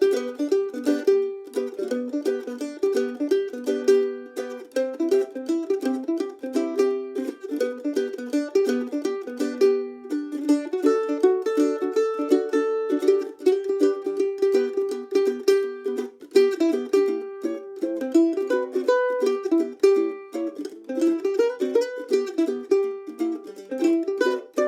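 Mandolin picks out a big-band jazz standard, a busy run of bright plucked notes in a steady swinging rhythm, close and alone throughout with no talking.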